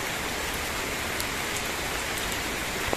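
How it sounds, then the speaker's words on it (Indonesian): Steady rain falling outdoors at a site with old bricks, a loud continuous hiss with scattered drops tapping on surfaces and no breaks. "Ini sayangnya lagi hujan."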